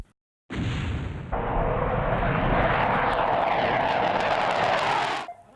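Warplanes roar overhead during a military air operation against militants, a loud continuous broadband jet-engine rumble that swells in after a brief silence and holds steady before cutting off.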